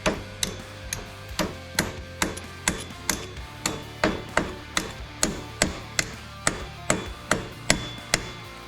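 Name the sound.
hammering chisel to open Kubota part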